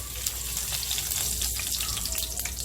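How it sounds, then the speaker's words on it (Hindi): Whole garam masala spices crackle and sizzle in a cup of hot oil, a steady close hiss with small pops that carries on through the whole stretch with no talking. "1 कप तेल डाल दिए, अभी गरम मसाला पूरा डाल देंगे"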